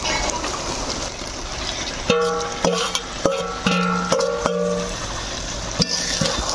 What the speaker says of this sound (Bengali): এবার মশলার সঙ্গে থোড়গুলা ভালোভাবে কষে নিব।